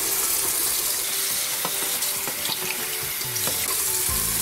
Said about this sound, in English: Remove any solid particles and rinse under running water.